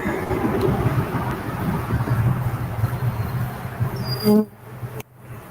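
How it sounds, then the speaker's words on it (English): Honeybees buzz at an urban hive in a continuous low, dense drone with a steady hum close by, ending in a sudden drop and a brief electronic beep. "So, caution, honeybees."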